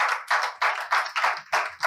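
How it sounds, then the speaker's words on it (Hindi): A church congregation claps loudly together for God at a Sunday service, six strong, evenly spaced bursts of applause in a quick rhythm with no voices. "एक बार जोरदार ताली मारेंगे परमेश्वर के लिए।"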